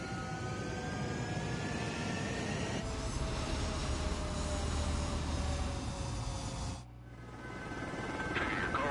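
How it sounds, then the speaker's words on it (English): A fighter jet taking off in the video game Ace Combat 7: a steady, loud engine roar with a whining tone that dips sharply near the end, then swells again. "Mage 2, clear for takeoff."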